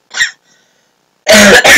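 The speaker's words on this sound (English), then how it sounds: "I have a cough, so if I cough, sorry." A single short cough up close during a botany lecture, followed after a pause by a burst of loud, rough noise.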